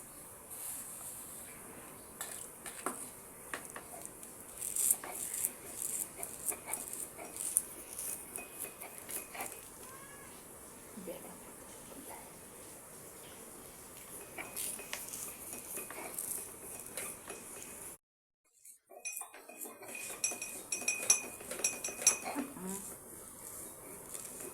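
Fried sesame seeds ground by hand, a run of close clinking and scraping strokes against a hard dish, uneven and persistent, with a brief pause near the end before the grinding resumes.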